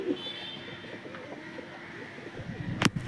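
Low, soft cooing from a white Madrasi pigeon in a home loft, repeated murmurs under faint background noise, with a brief sharp rustle or clatter near the end.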